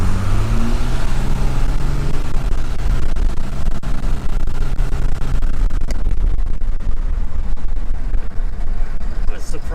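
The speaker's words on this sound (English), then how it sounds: "let's be quiet for a second and enjoy the sound of the diesel at full song" Cummins diesel engine swapped into a 1978 Dodge crew cab dually truck at full throttle going downhill, a loud continuous rumbling roar with clattering texture from inside the cab.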